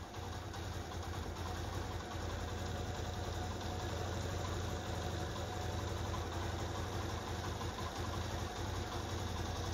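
A restored Hero Karizma R motorcycle engine idles steadily close by, a continuous low thrumming beat with no speech over it.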